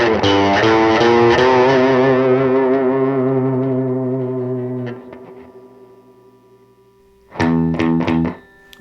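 Sustained distorted electric guitar chords through a BOSS Plugout FX PX-1 pedal with overdrive ring out and slowly decay, followed after a pause by a short burst of overdriven strumming.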